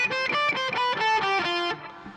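Electric guitar running a repeating scale pattern across the strings, a quick stream of distinct picked notes stepping steadily in pitch, played close and alone with a slightly driven tone before fading out.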